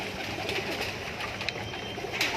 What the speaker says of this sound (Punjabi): ਬੜੇ ਹੀ ਆਊਟ ਕਲਾਸ ਕਬੂਤਰ ਹੀ ਨੇ ਸਰ